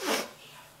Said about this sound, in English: This is just like an annoying, ticklish, annoying cough.